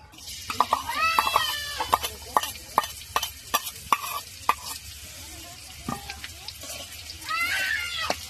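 Garlic cloves dropped into hot oil and stirred in a pan, sharp scraping clacks in an uneven rhythm over a low sizzle, with faint voices in the background.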